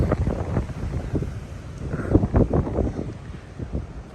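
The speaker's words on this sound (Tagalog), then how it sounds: "Lamig ng simoy ng hangin" Steady cold evening wind at the Bangui windmills in Ilocos buffets the microphone in gusts, a loud rumbling roar that rises and falls without any voices.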